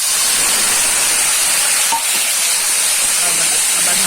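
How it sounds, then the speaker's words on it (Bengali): Ground spices, peas, tomatoes and green chilies fry together in a pan for a moong dal curry, giving a steady, close, even sizzle that holds throughout with no clear talking. "গুঁড়ো মশলা যেগুলো দিলাম সেগুলো ভালো করে একটু ভেজে নিচ্ছি"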